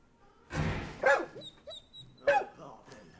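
A dog barks in Wolfenstein II: The New Colossus, two sharp close barks with soft whimpering yips between them, alone with no speech.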